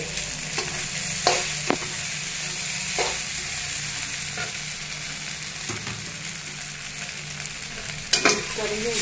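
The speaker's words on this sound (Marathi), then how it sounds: "मस्त परतून घ्यायचं आहे।" Peanuts sauté in a pan for sabudana khichadi, giving a steady close sizzle broken by the occasional scrape and clack of a spoon stirring.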